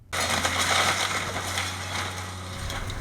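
The last section of a century-old house, built in 1896, crashes down during demolition, a loud sustained crunching and cracking collapse that starts abruptly and rumbles on for several seconds.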